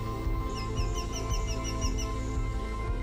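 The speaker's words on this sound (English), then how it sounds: "we heard a little sparrow calling right next to us." A sparrow repeats a quick, high chirping call in a rapid series, close by, over a steady low engine rumble, in Kruger National Park.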